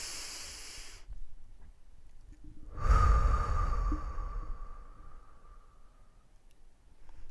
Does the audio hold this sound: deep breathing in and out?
yes